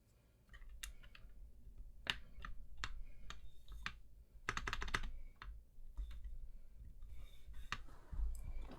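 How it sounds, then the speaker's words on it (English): Keys clack on a newly built Percent Skog Lite mechanical keyboard during a typing test, an irregular stream of sharp, close clicks with bursts of faster keystrokes and no talk. "it'll work just for the typing test."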